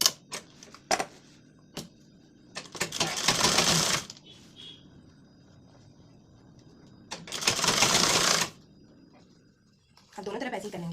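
A sewing machine stitches lace onto a blouse sleeve in three short bursts of fast rattling stitching, separated by quiet stretches with isolated clicks and handling taps.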